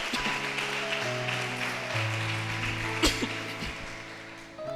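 A church congregation applauding: a steady, dense wash of clapping sustained over held keyboard or organ tones, with one sharper burst near the middle.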